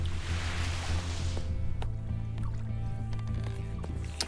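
Splashing through deep water in the Unexplored dungeon game, a broad wash of sloshing for the first second and a half, then fainter drips and small liquid sounds over a steady low hum.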